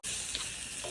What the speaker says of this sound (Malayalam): നമ്മൾ കുക്കറിൽ 5 വിസിലടിച്ച് വെച്ചിട്ടുള്ള ബീഫ് നമ്മൾ ഇതിലേക്ക് ഇട്ട്